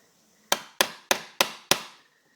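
Five sharp, evenly spaced hammer blows drive a small chisel into hardwood while cutting out a door latch recess, each strike loud and close with a quick decay, then quiet.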